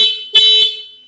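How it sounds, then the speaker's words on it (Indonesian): Anti-theft alarm on a 2021 Yamaha New Aerox scooter sounds close and loud, a steady high electronic tone that jumps in level for a couple of short bursts. "saat alarm berbunyi kita sentuh sensornya, maka alarm akan berhenti"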